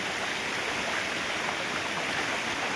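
Steady rushing water of a small rain-fed hillside stream flowing continuously, a broad even wash of sound with no voices.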